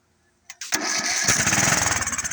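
An old, rusty, long-forgotten lawn mower engine coughs once, then catches and starts up, settling into a loud, rapid, uneven putter that pulses as it runs.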